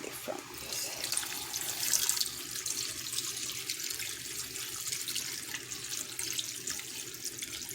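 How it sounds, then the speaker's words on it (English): Tap water runs and pours into a cooking pot of Jamaican-style oxtail, a steady splashing flow lasting throughout at moderate level, with no talking. "so I'm going to add this and add some water to the pot"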